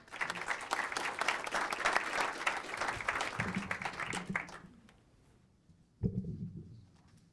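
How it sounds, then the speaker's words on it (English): Audience at a Moreno Valley city council meeting gives a loud, dense round of applause that fades out after several seconds, then a shorter burst of clapping briefly rises again. "if we could give them another big Moreno Valley round of applause, please."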